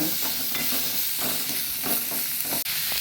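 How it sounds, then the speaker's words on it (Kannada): Onion and radish frying in a pan for a coastal-style radish pulimunchi, a continuous close sizzle broken by repeated scraping strokes of the stirring spoon, with a brief dip near the end. "ಇಲ್ಲಿ ಬರುವ ಇದು ಸ್ವಲ್ಪ ಹಸಿ ವಾಸನೆ ಹೋಗುವವರೆಗೆ ಇದರಲ್ಲಿ ಹುರಿದುಕೊಳ್ಳೋಣ"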